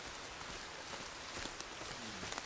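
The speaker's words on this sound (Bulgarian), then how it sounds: "Не пречи да вали, валежа е полунищо." Steady rain hisses in a video game, a soft, even downpour with scattered faint drip ticks, quiet and continuous with no voices.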